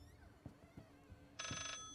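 A telephone rings inside the horror video game Layers of Fear, a short electronic ring that starts near the end over faint footsteps and room tone.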